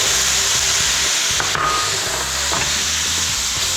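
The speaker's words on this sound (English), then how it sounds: "We have some white wine here. We're gonna add this. It's gonna sizzle like crazy." White wine hits a hot pan and sizzles loudly while making chicken piccata, a dense continuous hiss with light stirring clatter, close up and without talking.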